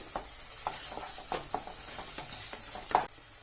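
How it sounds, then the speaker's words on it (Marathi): Onion and coconut paste frying in oil in a home kitchen for dhaba-style chicken gravy, with a soft steady sizzle and several distinct stirring scrapes at irregular intervals, no talking. "आता आपण यामध्ये हे जे कांदा खोबऱ्याचं वाटण आहे ते घालून ते देखील आपल्याला 1 मिनिट फ्राय करून घ्यायचे"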